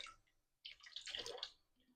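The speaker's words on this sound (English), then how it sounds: "I have some cold water going into a very clean sink." Cold tap water runs into a clean kitchen sink, a soft splashing rush that starts abruptly partway through and stays fairly quiet throughout, with no voices.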